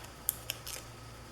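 Scissors cut through tape at a craft table, giving two quick, faint snips and then a brief softer slicing sound, with low room hum underneath and no speech.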